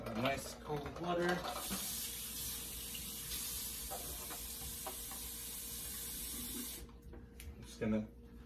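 Cold water pours steadily from a tap in a kitchen, a continuous hiss lasting several seconds, with brief bumps and voices talking at the start and end.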